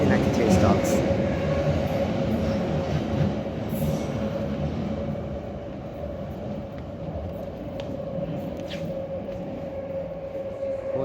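A London Underground 1992 stock tube train on the Waterloo & City line roars loudly and continuously in the tunnel, with a steady whine and occasional high squeals and clicks from the wheels.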